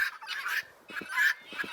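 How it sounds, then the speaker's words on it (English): Guinea fowl call in a rural barnyard with loud, harsh, repeated cries in clustered bursts, a brief lull in the middle, then another noisy run of calls. "The very noisy ones are my guineas."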